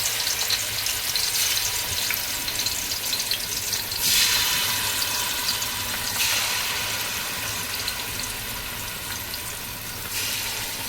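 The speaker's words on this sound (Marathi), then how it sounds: "आता आपण हे आपले टिक्का फ्राय करणार आहे ना, त्याच्यासाठी आपण हे तेल टाकतोय" Chicken tikka pieces fry in oil, giving a continuous loud sizzle with bursts of crackle, close by, with no voices.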